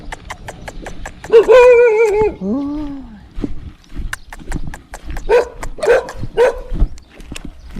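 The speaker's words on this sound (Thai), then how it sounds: "เห่าดีแล้วเว้ย" Dogs bark loudly nearby in a string of sharp, repeated barks, broken by a drawn-out whining howl and then several more close yelps.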